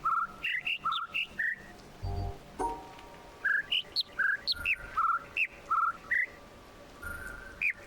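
Birds in the video game The Witness chirp in quick bursts of bright, rising whistled notes, repeated in clustered phrases with short pauses between, fairly close and clear with no talk.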